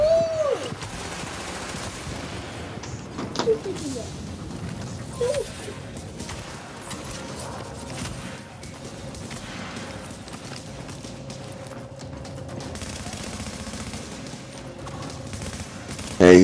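Rapid gunfire bursts and volleys from the video game Tom Clancy's The Division run steadily through a firefight, with occasional voices talking over it.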